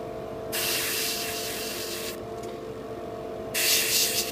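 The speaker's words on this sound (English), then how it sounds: "a lot of people struggle to actually identify where the airbrush is pointing" An airbrush lays a pre-shade coat on a Bandai MG Freedom Gundam Ver. Wolf model kit, giving three loud, close bursts of airy spray hiss over a steady background hum.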